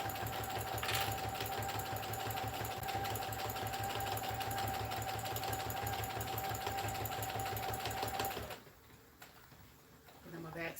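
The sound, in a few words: sewing machine straight stitching bucket hat side seam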